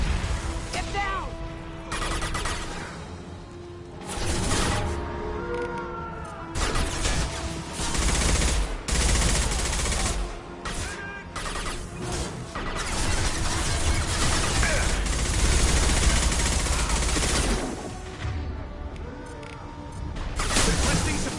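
Gunfire rages in a Mass Effect 2 firefight: dense bursts of automatic fire and single shots crackle almost continuously, with impacts and crashes, and voices call out over the fighting.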